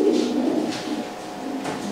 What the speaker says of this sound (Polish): Prezentuję gołębia o numerze 191, niebieska